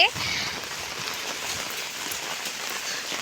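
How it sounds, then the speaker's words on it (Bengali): Heavy rain pours down in a dense, steady hiss, close and loud throughout. "অনেক বৃষ্টি হচ্ছে"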